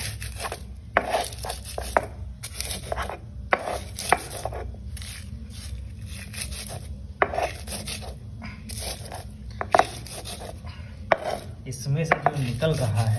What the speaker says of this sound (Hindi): अब इसको पीसते हैं